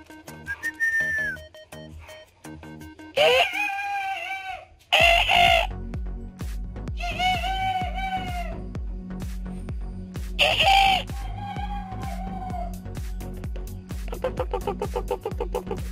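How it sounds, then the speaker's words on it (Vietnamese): Several roosters crow loudly in repeated drawn-out calls over a steady low rumble, with a thin whistle at the start and faint clucking in between. "Gáy đi, mồi được cho nó gáy bây giờ."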